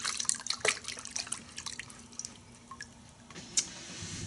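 Close, light sloshing and dripping as Rain-X foaming car wash soap is stirred into water in a bucket, with scattered splashes and trickles that fade to quieter drips.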